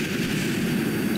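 An aircraft explodes in the video game Kerbal Space Program during a dogfight, heard as a dense, steady roaring rumble of blast and engine noise, loud and continuous with no voices.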